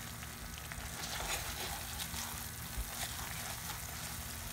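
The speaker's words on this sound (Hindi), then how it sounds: "2 मिनट के लिए मैं और भून लूँगी" A thickened vegetarian North Indian dish sizzles steadily in ghee in a pan as it roasts, a quiet continuous frying hiss with faint stirring scrapes and no speech.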